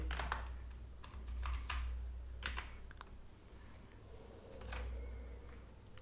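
Typing on a computer keyboard while writing SQL: scattered clicks and short bursts of keystrokes, quiet and close, over a low hum.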